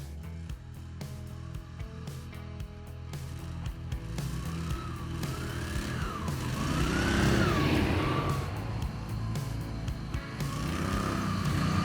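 Several snowmobiles ploughing through deep snow on sleds with wide and long tracks, engines droning and rising in pitch as they rev, growing louder toward the middle and staying steady to the end.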